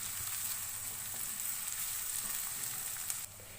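Chopped onion with cumin sizzles steadily in hot oil, a dense even hiss that carries on without pause, with a spoon stirring now and then; the frying drops slightly quieter near the end.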